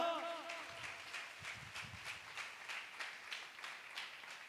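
A church congregation at a Sunday service claps in a regular rhythm, roughly two claps a second, moderately close and fairly quiet. A brief tonal voice or sound is heard at the very start.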